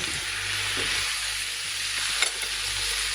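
Warm liver salad with green asparagus beans sizzles steadily in a pan while being stirred, a close, continuous frying hiss with a couple of soft scraping knocks and no voices.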